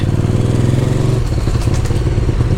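A KTM motorcycle engine runs loud and close on wet ground, a steady throbbing idle that shifts into a rougher, busier rumble with light throttle partway through.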